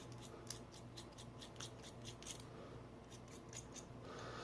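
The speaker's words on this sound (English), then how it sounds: "you take a razor blade, anything, and you just scrape the varnish off of this wire" Short, repeated scraping strokes from a razor blade stripping varnish off motor coil wire in a Marx E-unit reversing unit, close and fairly quiet, about a dozen quick rasps in a loose rhythm with no talking.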